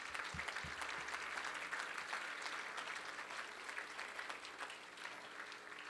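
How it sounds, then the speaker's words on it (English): Sustained applause from an audience at a dinner honoring guests, dense and steady clapping throughout with no clear talk over it. "All right, let's give them another round of applause."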